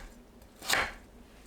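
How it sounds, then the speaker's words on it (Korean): A single knife stroke slicing raw sweet potato into thick strips, one short crisp cut close up in an otherwise quiet kitchen. "고구마를 채 썰어주세요."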